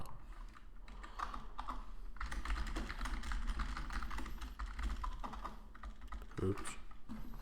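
Fast, continuous clicking on a computer keyboard while writing script code, close and steady throughout, with no talking.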